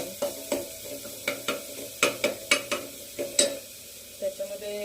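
Green chilies sizzle in hot oil while being stirred, with a steady frying hiss broken by a rhythmic run of sharp spoon scrapes and taps against the pan. The sound is close and there is no talk.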